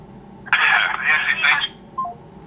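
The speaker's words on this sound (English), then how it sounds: "I just hit that damn hang up button on her." A telephone line gives a short burst of electronic tone followed by a brief beep as the call is hung up, heard close and fairly loud.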